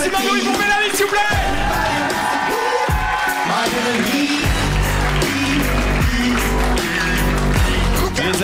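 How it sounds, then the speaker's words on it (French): A packed comedy club audience in Liège roars for Médéric, with dense, loud applause, yells and whoops throughout and a voice calling out over the din at times. "Encore un maximum de bruit pour Médéric, s'il vous plaît."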